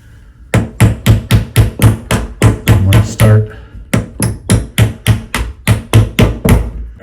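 Repeated sharp hammer taps on an old drill bit driving a pin up out of a door hinge, about twenty close, loud metallic strikes in a steady rhythm with a brief pause midway.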